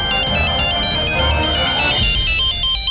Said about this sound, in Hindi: फोन उठा लो ना